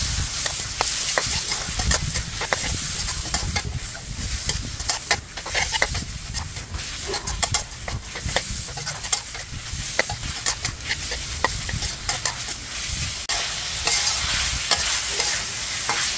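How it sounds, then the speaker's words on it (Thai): Sliced pork belly stir-fried in a pan gives a loud, continuous sizzle, broken by frequent scraping and clattering strokes of a spatula against the pan. "ใส่หมู3ชั้นสไลด์ลงไปจากนั้นก็ผัดต่อค่ะขั้นตอนนี้จะผัดไปจนกว่าหมูจะสุกค่ะ"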